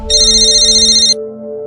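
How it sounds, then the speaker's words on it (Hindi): A mobile phone ringtone rings loud and close, a rapid pulsing electronic trill over sustained tones that cuts off abruptly, leaving a lingering held note. "आपका फ़ोन हमेशा गलत वक्त पे क्यों बजता है?"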